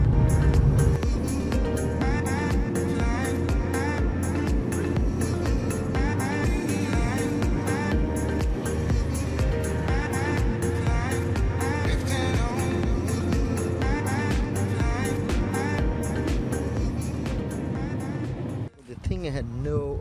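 A BMW 330i E46 drift car drones steadily as it drives, its engine note sustained and close for the whole stretch, with a voice talking over it.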